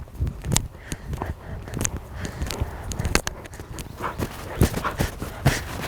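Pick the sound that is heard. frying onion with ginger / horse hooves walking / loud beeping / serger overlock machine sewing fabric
horse hooves walking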